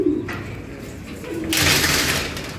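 Pigeons cooing nearby, a few low throaty coos followed by a burst of brighter noise, close and clear with no talk.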